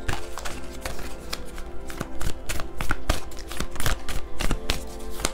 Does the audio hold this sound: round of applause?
no